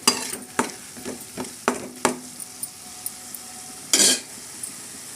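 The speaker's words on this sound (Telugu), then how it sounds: "5 రెబ్బలు కరివేపాకు దూసుకుని వేసుకోవాలండి" Curry leaves fry in hot oil with onion paste for a Godavari-style fish curry, giving a steady crackling sizzle broken by several sharp stirring scrapes and a louder spitting burst near the end, close up with no voices.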